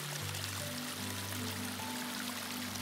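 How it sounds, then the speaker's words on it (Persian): Running water of a stream in Afghanistan's Lalandar valley near Kabul, a steady, close, continuous rushing flow with no voices. "تاجیکی للندر در هر گوشه اش آب روان دارد"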